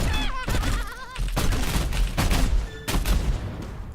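Junkrat fires frag launcher grenades in Heroes of the Storm, a rapid series of sharp blasts and booms mixed with bright whistling game effects, loud and dense, with no talking.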